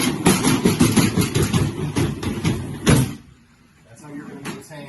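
An accordion hurricane shutter at a beachside home, freshly sprayed with silicone, is slid back along its track. It makes a loud, continuous rattling clatter for about three seconds that ends in a final clack, followed by quiet.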